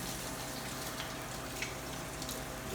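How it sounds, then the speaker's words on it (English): Tap water runs steadily into a sink in a teaching kitchen while hands are rinsed after shaping black bean burger patties, with a soft, even gush and no talking. "let's rinse our hands here."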